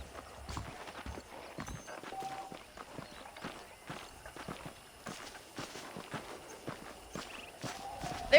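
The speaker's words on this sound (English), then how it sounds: "The horses are saddled up over here." Horse hooves clip-clopping at a steady walking pace in the Red Dead Redemption video game, close and continuous, with an occasional faint whinny and no talking.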